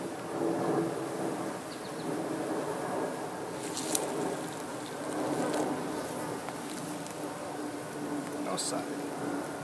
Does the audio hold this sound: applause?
no